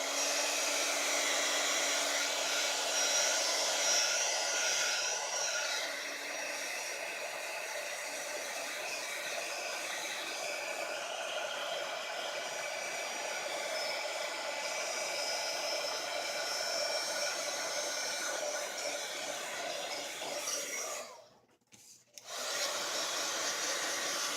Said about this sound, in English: And again with the heat gun.